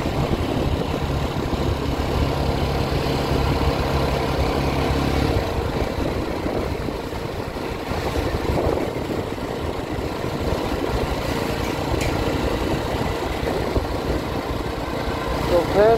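A motorbike engine hums steadily throughout while riding at an easy pace along Kulpi Road (NH 117), with continuous road and wind noise and a voice talking over the engine.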